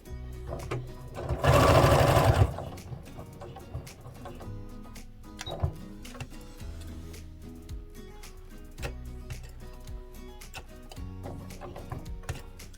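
A sewing machine stitches through a layered quilt, starting with a loud, close burst of rapid whirring and then continuing with quieter clicks and short mechanical runs.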